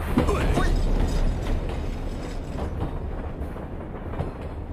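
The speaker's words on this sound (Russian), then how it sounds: "Толстый, это трамвай. Современное средство передвижения." A tram runs along its rails with a loud, continuous rumble and faint rhythmic clacking of the wheels, heard close up with no talk.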